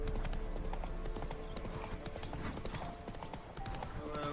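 Horse hooves trot in a steady clip-clop rhythm in The Witcher video game, close and continuous over layered game ambience and tonal music.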